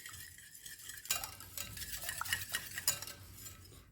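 Chorizo madeleine ingredients are mixed by hand in a bowl, giving close, irregular scraping and clinking strokes that pick up after a quiet first second and continue steadily, with no talking.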